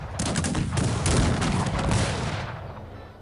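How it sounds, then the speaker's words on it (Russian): Musket gunfire from a volley of troops in the strategy game Cossacks 3: a dense, loud crackle of overlapping shots for about two and a half seconds, then tapering off. "Или давайте вот этих постреляем."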